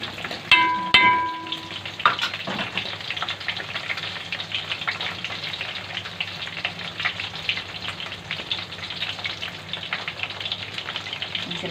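Garlic fries in a pan with a continuous bright sizzle and crackle, a few clanks of a utensil near the start, the hiss staying steady throughout.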